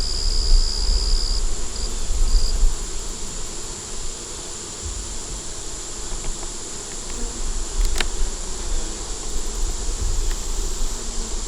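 Honeybees buzz at a growing hive in a dense, continuous drone, up close and steady, with occasional faint clicks and rustles from the hive inspection.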